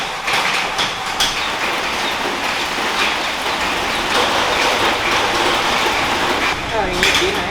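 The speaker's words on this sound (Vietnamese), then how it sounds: "trời mưa này" Rain falls steadily and loudly at a village house, a dense unbroken hiss of drops on surfaces with a faint voice mixed in underneath.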